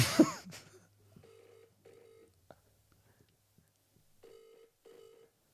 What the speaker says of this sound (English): If he sees the phone ringing at this time of night as well